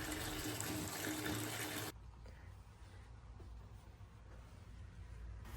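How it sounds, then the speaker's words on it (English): Lukewarm water gushes loudly from a tap into a bath for washing a handspun, handwoven blanket, then cuts to a softer, quieter trickle and slosh. "Just filling up a bath with lukewarm water and some eucalan"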